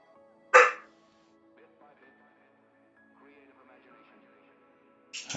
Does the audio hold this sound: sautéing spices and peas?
no